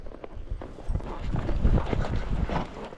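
Horse hooves clip-clopping steadily during a solo horseback ride out to gather cattle, a continuous rhythmic plodding over wind noise and outdoor rustle.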